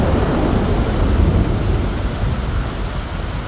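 A long, constant rainstorm roars as a dense, steady downpour with a deep low rumble like distant thunder, loud and unbroken, with no voices.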